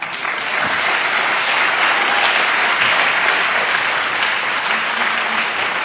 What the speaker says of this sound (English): one more round of applause for Noam Chomsky